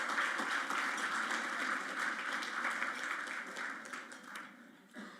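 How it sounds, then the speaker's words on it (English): A conference audience applauds the event organizing team with a steady, dense wash of clapping that fades gradually toward the end, heard at moderate distance in a hall. "a quick round of applause for their team"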